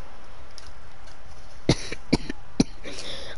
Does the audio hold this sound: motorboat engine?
no